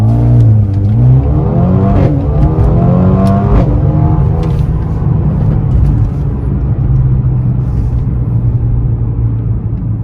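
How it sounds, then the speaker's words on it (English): A 2021 Mercedes-AMG CLA 35 sedan under full-throttle acceleration, loud close engine note climbing through the revs with audible gear shifts early on, then settling into a sustained high drone and road rumble. "now we will do a full throttle acceleration gradually"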